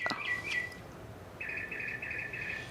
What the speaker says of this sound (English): We're pausing for the bird clock.